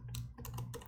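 Several quick bursts of computer-keyboard typing clack close by during a computer upgrade, with short pauses between the groups of keystrokes.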